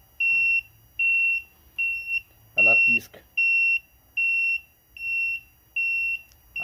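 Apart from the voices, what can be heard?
beeping buzzer wired to motorcycle hazard light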